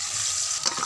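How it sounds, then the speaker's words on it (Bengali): Mutton pieces with bay leaf, chopped tomato and rendered goat fat sauté for mutton kosha, giving a close, steady hiss of sizzling oil with a brief stirring scrape near the end. "তেজপাতা, টমেটো কুচি, সব কিছু দিয়ে কষিয়ে নেব।"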